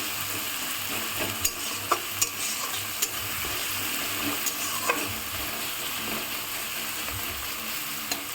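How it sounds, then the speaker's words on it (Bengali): Salted onions sizzle continuously in a frying pan as a spatula stirs them, with sharp scraping clicks at irregular intervals over the constant hiss. "আমি আরেকটু ভাজছি, ভেজে নিচ্ছি।"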